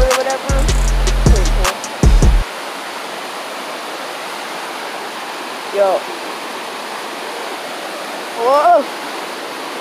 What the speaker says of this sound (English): we're now at this little like river or whatever.